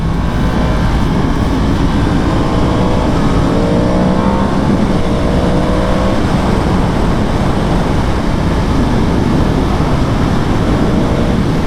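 A 2022 Yamaha MT-10 motorcycle pulling out of a curve under throttle, its engine roaring continuously and loudly up close, heavily mixed with rushing wind noise on the move.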